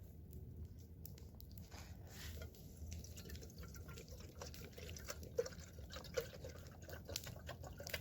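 A thin, faint trickle of water runs into a small camping kettle outdoors in a meadow, steady and close with a few light drips and splashes toward the end.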